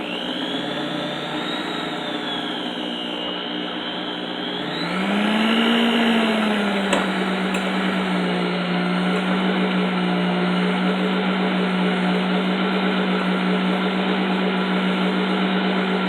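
An electric hand mixer whirs steadily as it blends cheesecake pie filling with sugar in a bowl, its motor pitch rising and then holding a constant loud hum with a brief clink partway through.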